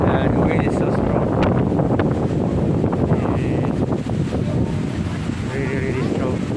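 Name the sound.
strong monsoon wind on Boracay beach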